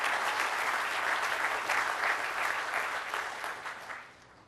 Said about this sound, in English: So give Ron a big round of applause.